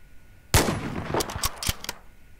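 Gunfire in a WWII Soviet roleplay video game: one loud sharp shot, followed by a quick ragged burst of several more reports over about a second and a half, close and with no talking.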